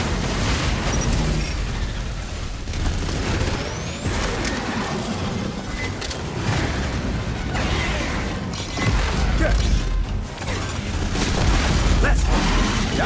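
In the video game Aliens Fireteam Elite 2, a grenade blast booms loudly amid continuous heavy gunfire, crashing impacts and rumbling battle noise, with voices calling out over the chaos.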